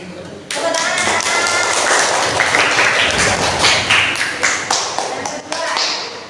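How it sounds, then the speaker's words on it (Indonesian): Classroom applause after a student group's presentation, a dense, loud burst of many hands clapping that starts abruptly and holds steady, with some voices mixed in. "Tepuk tangan."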